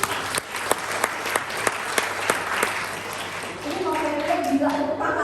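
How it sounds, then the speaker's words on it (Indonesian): Applause from an audience at a talk breaks out in a few sharp early claps, then swells into steady clapping, with a voice speaking over it toward the end. "Tepuk tangannya kurang."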